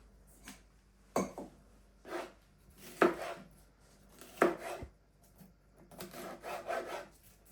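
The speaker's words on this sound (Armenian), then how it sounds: "Հիմա մեզ հարկավոր է բիբար կտրատենք" A knife chops peppers on a board with uneven bursts of cuts, each a quick run of sharp taps and scraping strokes, close and fairly quiet, no talking.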